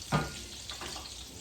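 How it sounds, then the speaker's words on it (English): Steady crackling sizzle of a hot cast iron pan, with a brief louder burst near the start, close and continuous. "Just get it nice and hot, sizzling."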